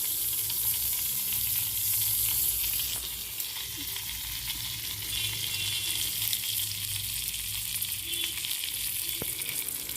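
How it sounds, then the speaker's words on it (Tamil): Mustard seeds splutter and pop in hot oil in a pan while tempering for instant Karnataka-style sambar, a continuous close crackling sizzle that eases slightly after the first few seconds. "கடுகு வெடிக்கட்டும்."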